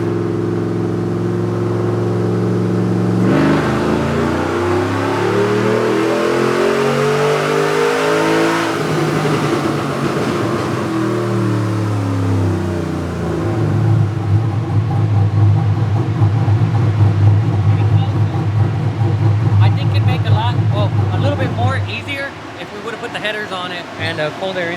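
Junkyard car engine being prepped for turbos, revving hard and straining as if choked on its intake; loud, sustained near rev rising and falling, with a denser roaring stretch in the middle, no talk.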